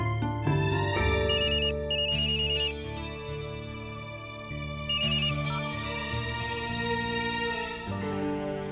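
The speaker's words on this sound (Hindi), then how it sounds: "इतनी बार फोन कर रहा हूँ लेकिन फोन उठा ही नहीं रही है" A melodic phone ringtone plays over and over, loud and close, with no one picking up.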